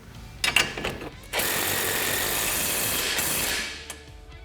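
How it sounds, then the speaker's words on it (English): Power tool tightening the hardware on a SuperATV 3-inch lift kit fitted to a 2021+ Can-Am Commander XT: a few short clicks, then one steady loud whir lasting about two seconds before it winds down, with no talking. "Now you're just going to go through and fully tighten all your hardware."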